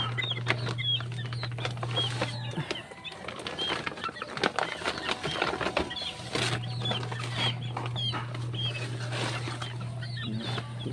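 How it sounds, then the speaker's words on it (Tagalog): Young chicks of the Cutter Brothers bloodline, about two and a half months old, cluck and peep steadily at close range, with scattered rustling and wing flaps, over a continuous low electrical hum that drops out briefly midway. "2 buwan may kalahati pa lang itong mga Cutter Brothers, itong mga sisiw ko."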